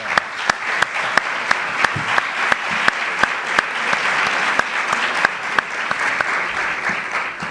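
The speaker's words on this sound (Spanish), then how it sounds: "un fuerte aplauso para ellos" Audience applause for two students of Escuela 705 in Trevelin at a university talk in Esquel, a steady wash of many hands clapping throughout with a few sharper nearby claps standing out.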